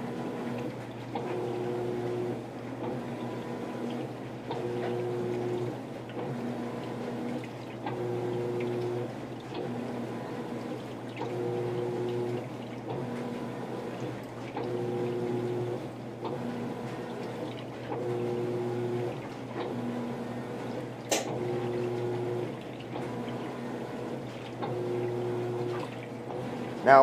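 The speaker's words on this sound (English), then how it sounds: "this is one of the few top loaders that can actually take on a comforter." A GE top-loading washing machine agitates a twin comforter, a steady low motor hum with a repeating churning rhythm and sloshing water cycling every couple of seconds, with a brief click near the end.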